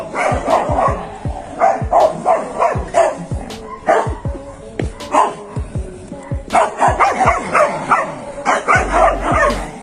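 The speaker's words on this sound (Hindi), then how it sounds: "इन दोनों का एक दूसरे पर भौंकना शुरू हो जाता है।" Dogs on either side of a gate bark back and forth at each other in loud, close, repeated bursts, with sharp yips and growly barks coming in rapid clusters and only short pauses between them.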